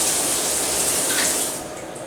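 A hotel shower head sprays water in a steady, loud hiss that fills the space, easing slightly toward the end, with no talking.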